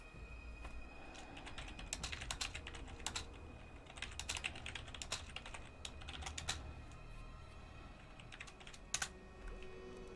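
Faint computer keyboard typing at a desk during a Total War Warhammer live stream. Irregular clusters of soft key clicks keep coming over a low steady room hum.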